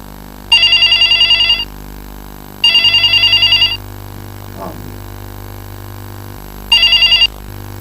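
An old landline telephone bell rings in three bursts of rapid trilling, each about a second long with pauses between, loud and close indoors over a low steady hum.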